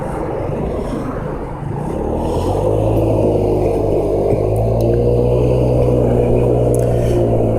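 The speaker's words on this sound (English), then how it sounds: "So it's a 50cc scooter." A modified 50cc Chinese Peace Motorsports scooter engine runs nearby, its buzzing drone dipping briefly then rising to a higher, steady revving hum that holds to the end.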